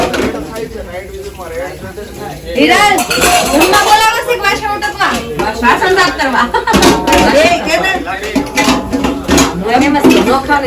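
Utensils being washed by hand, with dishes and pots clinking and clattering almost continuously beneath loud, overlapping conversation among several people.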